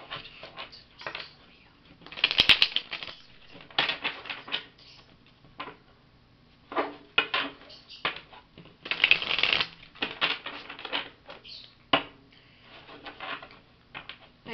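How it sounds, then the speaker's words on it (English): Tarot cards are shuffled by hand up close in quick papery riffles and bursts with short gaps between them, fairly quiet, and no one speaks. "I know the shuffling does take some time."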